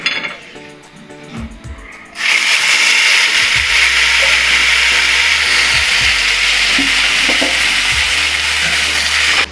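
Onion paste hitting hot oil in a pan while cooking katla kalia fish curry: a loud, close, steady sizzling hiss bursts in after a quieter start and runs unbroken to the end.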